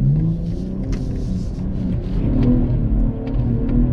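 A rear-wheel-drive BMW G20 M340i accelerates hard through snow in a blizzard, its engine droning loudly and steadily from inside the cabin with a low, rising rumble and faint wind noise throughout.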